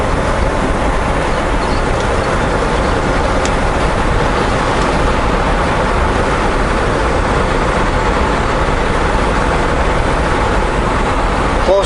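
Truck driving along a road beside crystallized lava rock, a steady loud roar of engine and tyre and wind noise from inside the cab, with a voice faintly present.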